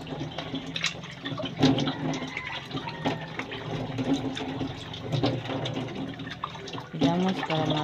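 Running water splashes as someone rinses their face without soap after an aloe vera treatment, with irregular splashes and trickling over a steady flow, close and fairly quiet, no talk.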